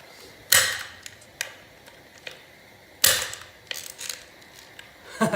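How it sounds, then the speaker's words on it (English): Hand tool snapping while a 12 mm bolt is worked loose on a D16Z6 engine's slave cylinder: two sharp cracks about two and a half seconds apart amid scattered clicks and scrapes of metal, close and fairly quiet. "That wasn't the sound of the bolt coming out. That was the sound of fucking tool breaking."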